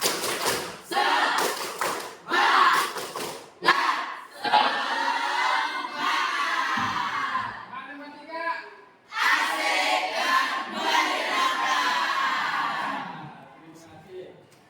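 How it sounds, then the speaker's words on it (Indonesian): A classroom of students does the rhythmic 'tepuk semangat' spirit clap, with bursts of clapping patterns, chanted voices and cheering, loud and close, pausing briefly before a final round of claps and shouts. "1, 2, 3, tepuk semangat."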